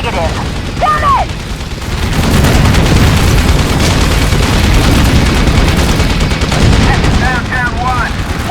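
Heavy gunfire rages in the video game Thunder Wolves, with dense, loud bursts of machine-gun fire and booming blasts rolling almost continuously, while brief chirping sounds rise faintly above the din.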